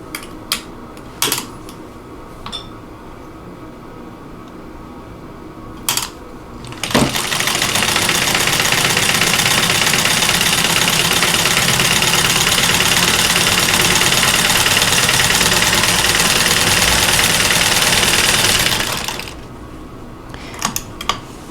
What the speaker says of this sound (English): I'm going to go ahead and sew on both sides of that drawn line by 1/4 inch.